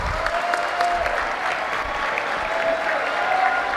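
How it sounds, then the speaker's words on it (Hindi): An audience at a conference session gives a steady round of applause as guests are invited onto the stage, a dense, even clatter of many hands sustained throughout. "जोरदार तालियां."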